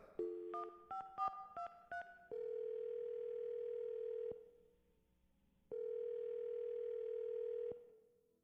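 Rapid touch-tone keypresses dial a phone number, then a drawn-out ringback tone sounds twice with a silent gap between, crisp and isolated without any talking.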